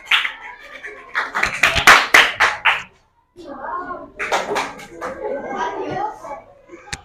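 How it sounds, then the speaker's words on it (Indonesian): Classroom applause from a group of children for a student group: a burst of quick, scattered clapping mixed with lively children's voices, a brief pause, then more chatter and lighter clapping, fairly close. "Tepuk tangan untuk kelompok Sa"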